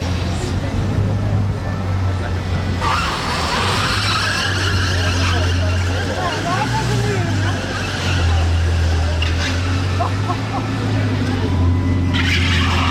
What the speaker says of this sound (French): on va avoir du mouvement avec la Chiron Pure Sport